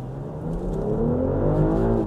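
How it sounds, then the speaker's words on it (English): A BMW mild-hybrid car accelerating hard from a stop: a steady, close engine note rises in pitch over about two seconds with no talk over it. "Now what I want you to do is punch the gas down hard when ready"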